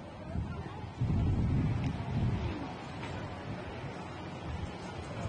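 Wind gusting across an outdoor beach volleyball court during a Brazilian professional match, buffeting the microphone as a steady, low roar that swells sharply for a moment before settling into a continuous rush.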